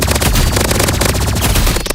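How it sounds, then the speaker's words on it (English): Sustained rapid automatic gunfire from a secondary weapon with infinite ammunition in a shooting video game, loud and dense bursts filling the clip before cutting off at the end. "you might use this for like shooting these targets or something, or like practicing your aim"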